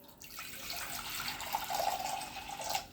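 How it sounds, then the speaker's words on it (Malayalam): Water pours steadily into a pot for a few seconds, a close, splashing rush that swells and then tapers off. "ഇതിലേക്ക് കുറച്ച് വെള്ളം ഒഴിച്ചു കൊടുക്കാം."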